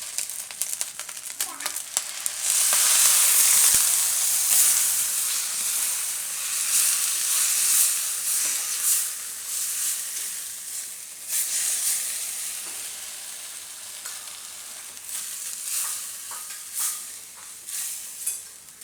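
Milk poured into a pan of roasted cracked wheat bursts into a bright hissing sizzle that swells, then fades and flares again under scraping and stirring, with no talk.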